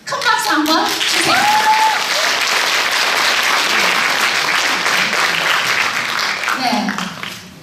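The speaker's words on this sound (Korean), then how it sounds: "큰 박수 한번 주세요" A large audience applauds loudly and steadily at a Gyeongju traditional music performance by the Sillageum ensemble, with dense clapping filling the whole stretch alongside a few overlapping voices.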